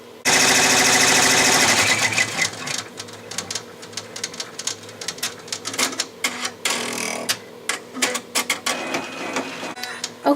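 Embroidery machine tacking down a leaf applique on an in-the-hoop tooth fairy pillow, a loud fast rattling run of needle strikes at the start easing into steady uneven mechanical clatter with short bursts throughout.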